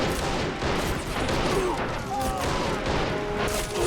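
Dense, continuous gunfire and explosions in the Men of War strategy game, a busy battle din of overlapping shots and blasts at close range, with a voice speaking underneath.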